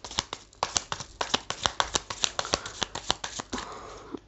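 Tarot cards are handled and drawn from a deck, giving a quick run of crisp, close flicks and snaps in an uneven rhythm, ending in a softer rustle.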